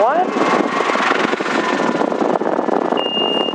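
A Schweizer S300 CBi training helicopter in flight during checkride practice gives a loud, steady rotor and engine drone, with a brief rising whine at the start and a thin warning tone near the end, while a voice talks over it.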